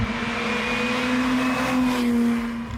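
A Lamborghini Miura's V12 engine running steadily, a loud sustained mechanical hum with a bright whine on top, close and alone.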